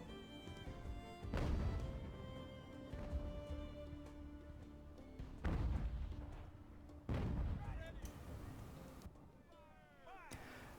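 Artillery fire in Ultimate Admiral: Age of Sail, with several deep booming cannon shots spaced a few seconds apart and each rumbling out over a steady low game ambience.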